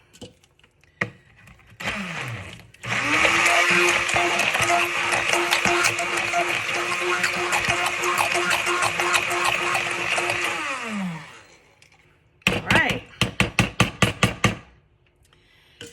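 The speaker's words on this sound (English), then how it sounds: "Then I'll take the blender to it again." A blender whirs steadily for about eight seconds, mixing a keto mocha butter-bites batter. Afterward a quick run of sharp knocks and clatters follows close by.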